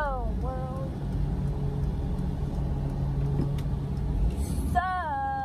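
A car being driven home from school, heard as a steady low engine and road rumble from inside, with brief tonal sounds at the start and end.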